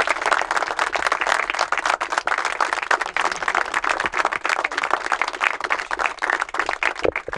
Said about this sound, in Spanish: pido un aplauso para todos